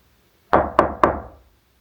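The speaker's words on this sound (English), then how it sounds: "How about copying my knock?" Three sharp knocks on a hollow surface in quick, even succession, close by and loud, each ringing out briefly before the next.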